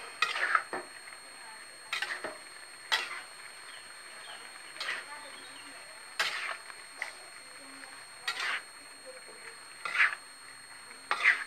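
A utensil stirs a cassava leaf and taro stir-fry in a pan, giving sharp metallic clinks and scrapes about once a second against a quiet kitchen background.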